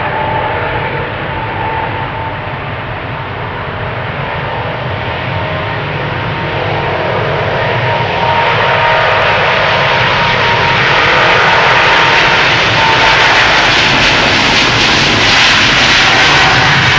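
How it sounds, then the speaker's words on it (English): A KLM Boeing 777-200 jet takes off at Amsterdam Schiphol, its engine roar building from a steady rumble into a louder, brighter blast that swells and stays strong to the end, no voices. "Lined up right now, KLM flight 705 to Rio de Janeiro. It's a 777-200 the PHBQN."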